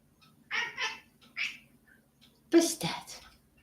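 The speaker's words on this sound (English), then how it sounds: "You're a funny cat. You hear me talking, you gotta bark and make noises, huh?" A pet cat makes short vocal meow-like calls in a home, several near bursts with a louder cry toward the end.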